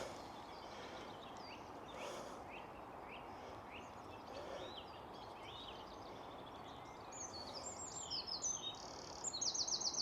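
Small birds chirp and tweet in scattered short calls over a steady wash of rain during a hike at Darland Banks, with the calls growing busier and louder near the end.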